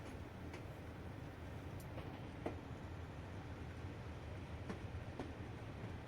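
Class 37 diesel locomotive pulling its train away in Train Simulator Classic on the Kyle of Lochalsh to Inverness line, a steady broadband engine rumble with faint rail clicks heard alone at a constant level.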